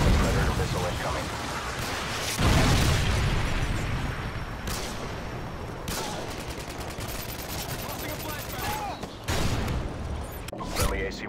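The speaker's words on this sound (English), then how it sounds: "Friendly Predator missile incoming." Predator missile strikes in Call of Duty: Modern Warfare 2 blast through a continuous barrage of gunfire, several sharp explosive bursts punching through dense battle noise.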